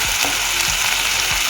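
Spices go into potatoes and drumsticks frying in a pan, producing a loud, continuous close sizzle with low thumps of stirring recurring roughly every half second.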